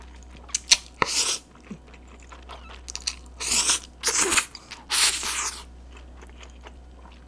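Close-up wet slurping and crunchy chewing of Paldo Bibimmyeon II cold spicy ramen noodles, several bursts of eating noise separated by quiet pauses, no talking.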